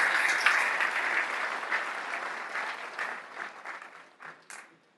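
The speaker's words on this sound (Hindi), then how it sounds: "जोरदार ताली से अभिनंदन करो" An audience at a public speech event claps loudly, the dense applause steadily thinning and fading out over about five seconds.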